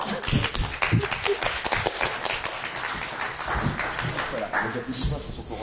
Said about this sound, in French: Et on applaudit Anthony Leclerc.